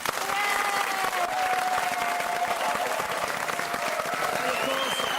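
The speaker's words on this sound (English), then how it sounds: "Can we also have a round of applause for all the special guests" Studio audience applause at a Christmas special of a TV music quiz show, loud sustained clapping with some cheering and a tonal music line underneath, continuing without a break.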